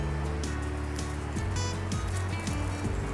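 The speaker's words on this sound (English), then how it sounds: "Oh, here comes the rain. Starting to come down a little harder." Rain beginning to fall outdoors on an autumn day among fallen leaves, a steady broadband patter of drops over a low background hum, continuous and fairly close throughout, with no talking.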